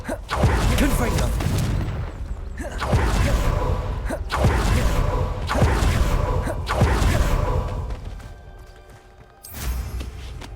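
A Confringo fire-blast spell in the video game Hogwarts Legacy is cast repeatedly, heard as a series of loud booming explosions with whooshing tails at a steady rhythm, followed by a quieter stretch and one more blast.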